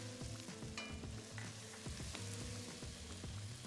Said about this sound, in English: we'll add the chopped garlic and cooking it just until we can smell the garlic